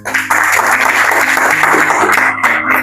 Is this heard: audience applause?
yes